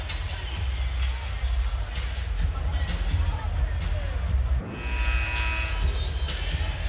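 The Rupp Arena crowd roars and cheers at a Kentucky versus Missouri college basketball game, a dense, steady wall of noise from a large audience with a broadcaster talking over it throughout.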